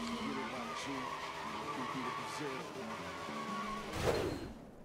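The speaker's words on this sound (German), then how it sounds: "Wie er nochmal schön Gas gibt" A motorcycle in the video game Sleeping Dogs revs and skids, with a tire squeal and engine whine building and a swooshing skid near the end, heard under someone talking.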